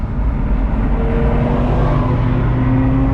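A loud V10 sports car engine roars close by, its pitch climbing as it revs.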